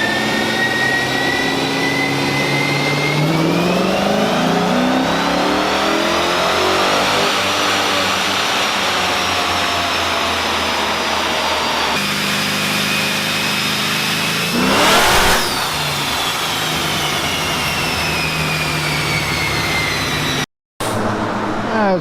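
A supercharged GMC C10 truck engine revs hard and loud, rising and falling with a whining blower pitch climbing over the exhaust roar, held for long stretches before cutting off abruptly near the end.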